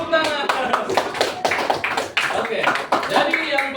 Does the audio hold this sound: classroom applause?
yes